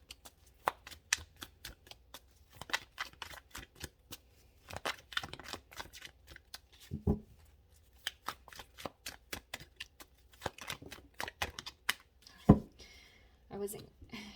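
Tarot cards being shuffled during a reading: close, crisp riffling and flicking in irregular bursts that come and go throughout, with a few sharper slaps of cards landing.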